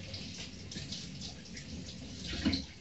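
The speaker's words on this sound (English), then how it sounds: "Just quickly give these a quick rinse in some cold water." Cold tap water runs steadily as fresh herbs are rinsed in a kitchen before going into a Belgian sausage and chicken stew, a continuous close splashing wash.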